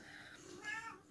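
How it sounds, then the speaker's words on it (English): A cat jumps over nearby and gives a short, faint meow, quiet and brief against a soft room background. "excuse the cat just jumping over and making a noise"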